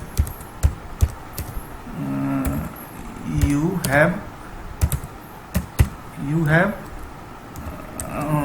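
Clicks from typing Python code on a computer keyboard, heard as sparse sharp key taps scattered between a man's spoken explanation.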